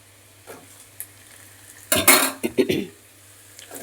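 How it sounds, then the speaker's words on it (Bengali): Steamed chopped potatoes tip into a hot frying pan with a sudden burst of sizzling, then a spoon stirs with a few clinks and scrapes before the pan settles to a quiet hiss. "এবার আমি দিয়ে দিচ্ছি আলু কুচিটা"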